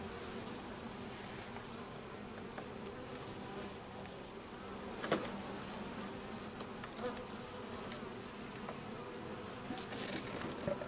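Honeybees from a modest swarm-founded hive drone in a steady, faint buzz, with individual bees passing close now and then.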